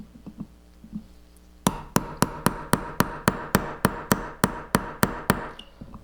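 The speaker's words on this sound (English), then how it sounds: "Now, you can just pound it out through this side." Faint handling clatter leads into a fast, steady run of about fifteen sharp metallic hammer blows driving the firing pin out of a J.C. Higgins Model 20 rifle bolt, close and evenly spaced with no talk.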